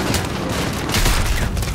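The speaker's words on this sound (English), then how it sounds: "And it even turns the explosion into pomegranate." A grenade in the Call of Duty Modern Warfare 2 campaign remaster detonates as a pomegranate, giving a loud booming blast with rumbling gunfire-like crackle throughout and no talking.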